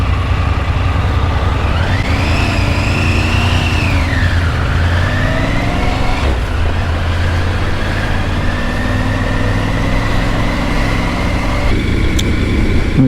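A motorcycle ridden on open roads during police-led Bikesafe rider training, its engine droning loud and steady, the pitch swelling and dipping as the rider accelerates and eases off, with wind rush throughout.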